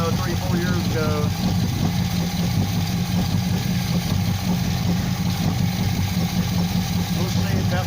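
Oldsmobile Cutlass Supreme G-Body V8 with a rebuilt carburetor and freshly reinstalled radiator, running at a steady, loud idle throughout, with a voice speaking over the engine.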